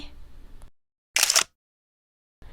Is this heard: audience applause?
no